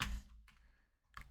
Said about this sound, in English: You can see the way I'm typing